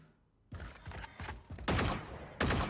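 Gunfire in the game Valorant: a string of sharp, loud bursts, each short and abrupt, coming in uneven volleys with the later shots louder and closer, with no voices.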